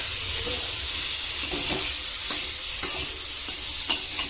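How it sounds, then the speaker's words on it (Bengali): Cubes of paneer fry in hot butter with a steady, loud sizzling hiss, broken by a few soft scrapes and taps from stirring. "এবারে আমি পনিরগুলো দিয়ে দিই। পনিরগুলো জাস্ট হালকা ভেজে তুলে নেব"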